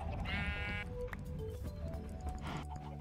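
Sheep in the Minecraft game bleat in a few brief, nasal calls near the listener, over a low steady background rumble with faint clip-clop movement sounds.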